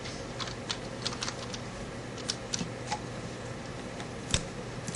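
Steady typing on a computer keyboard, with quick close key clicks at an uneven pace over a faint background hum.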